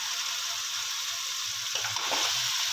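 Pieces of mutton go into fried masala paste for a degi-style white mutton pulao, setting off a steady, broad sizzle that rises slightly as the meat hits the pan, with a faint clatter partway through.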